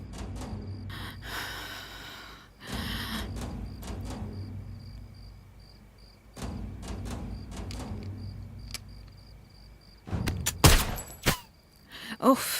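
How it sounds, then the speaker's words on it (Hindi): Rifle shots in a Hindi-dubbed action thriller: sharp, loud cracks come in bursts, a couple early and a cluster near the end, between stretches of tense breathing and quiet background. "सांस रोको और शूट कर दो।"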